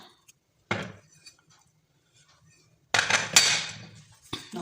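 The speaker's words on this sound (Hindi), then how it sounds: "ये स्पैचुलर से मैं ऐसे प्रेस करके" Besan halwa being pressed into a tray with a spatula, a few separate scraping, clattering bursts of metal against the tray with quiet pauses between, close and moderately loud.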